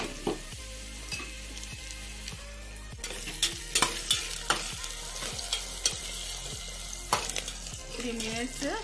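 Onions, green chilies and curry leaves fry in a pan for gongura chicken, giving a constant sizzle punctuated by rhythmic scrapes and knocks of a stirring spoon against the pot, close and fairly loud.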